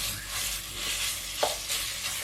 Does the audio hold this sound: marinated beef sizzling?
yes